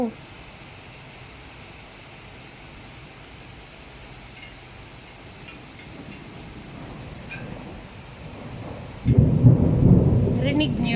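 Heavy night rain with thunder in Kuwait, a low rolling rumble and steady downpour hiss that swells into a loud close burst of rain near the end.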